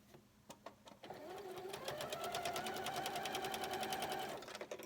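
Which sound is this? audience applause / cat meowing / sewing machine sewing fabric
sewing machine sewing fabric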